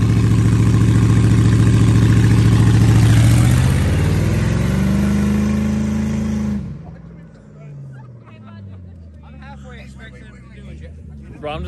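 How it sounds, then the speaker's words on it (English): A car engine revs hard at a car meet, a loud sustained high-RPM roar that climbs in pitch, then drops off into a lower uneven rumble with crowd noise and voices around it. "Just build up RPM."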